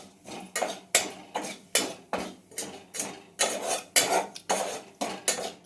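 A utensil repeatedly scrapes and clinks against a hot metal pot in a steady rhythm, about two strokes per second, close and clear, while stirring ajwain and fennel mouth freshener.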